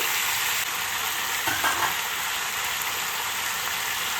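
Panch phoron spices and green chilli sizzling in hot oil, heard as a constant close hiss with a brief stirring scrape partway through.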